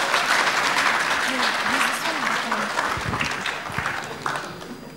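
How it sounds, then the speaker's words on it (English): Sustained applause from the audience at a 2017 university youth leadership forum, a dense wash of clapping that fades slightly while a speaker talks over it. "Round of applause, ladies and gentlemen."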